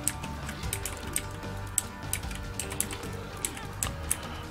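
Keyboard keys and the spacebar clacking in quick, irregular taps during a Binding of Isaac Afterbirth+ game session, set over steady game music and effects.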